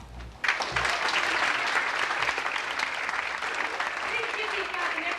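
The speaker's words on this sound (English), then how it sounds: "Please give these guys an extra round of applause" Applause erupts suddenly at a 1988 sports banquet, a crowd clapping densely and steadily after a brief moment of quieter sound, holding at a full level throughout.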